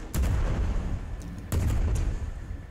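Ship cannons fire in a naval sky battle in Worlds Adrift, two loud booming shots about a second and a half apart, each with a heavy low rumble and a trailing echo, and no voices.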